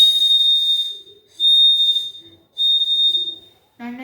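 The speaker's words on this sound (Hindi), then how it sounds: "ये है सीटी वाला टाइप का है ना" Toy whistle from a fun and learn kit blown three times in sustained shrill bursts of about a second each, loud and close, followed by a brief spoken voice.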